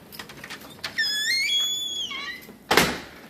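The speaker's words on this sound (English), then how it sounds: "The door works freely." A house's front door swings open on a long, squeaky hinge and then shuts with a single solid thump, close by and with no voices.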